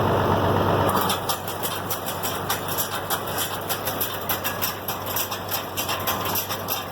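Hay equipment with new belts spins up outdoors, giving a steady mechanical whirring and rumble with a fast, regular rhythmic ticking. The sound is loud and close, with no talking.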